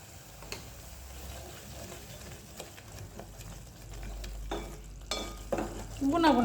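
Blended onions sauté in a pan at a soft, steady sizzle, with occasional stirring scrapes and clinks. The sound grows a little louder toward the end.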